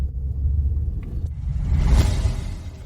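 Car driving, a steady low engine rumble heard from inside the vehicle, swelling slightly midway and then easing off, with no voices.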